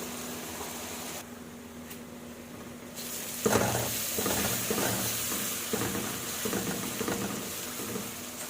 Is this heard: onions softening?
yes